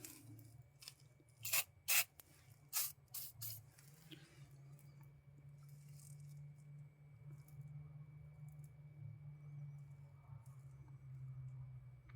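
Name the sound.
spraying WD-40 lubricant onto a hose fitting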